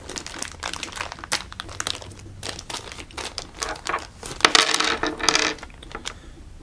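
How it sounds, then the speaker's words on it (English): Plastic packaging holding toilet flush valve parts is torn open up close, loud crinkling and crunching with sharp rustles, growing busier toward the end. "open your packaging up"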